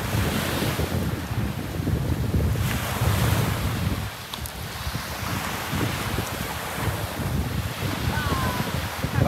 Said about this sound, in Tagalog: Habagat ang hangin, pero medyo kalmado.